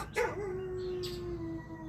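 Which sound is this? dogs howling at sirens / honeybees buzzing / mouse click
dogs howling at sirens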